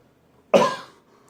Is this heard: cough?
yes